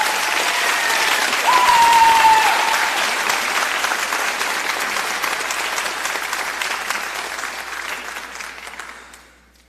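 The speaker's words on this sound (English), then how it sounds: "Please give them a round of applause." Sustained audience applause at a school education foundation scholarship night, a dense wash of clapping that peaks early, then slowly thins and fades out by the end.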